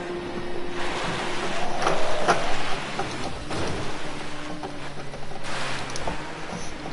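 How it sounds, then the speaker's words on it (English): Rain falls in a GT3 racing video game at the Bathurst circuit, a steady broadband hiss that rises and falls slightly across the whole stretch with a low rumble beneath. "The rain's coming back."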